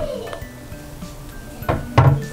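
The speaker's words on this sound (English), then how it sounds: "I like the cabinets because they're self-closing kind of cabinets." A self-closing door on a wall-mounted 24-inch bathroom vanity cabinet eases shut, with soft handling knocks that build to a muffled thud as it settles close by.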